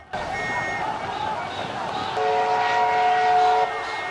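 A train about to depart, with a steady rumble of station and rail noise under a sustained horn or whistle tone over the last couple of seconds; voices are faintly present.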